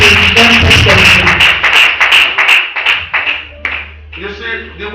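A church congregation claps loudly and close in a quick, uneven rhythm, with voices calling out over the claps before they thin out near the end.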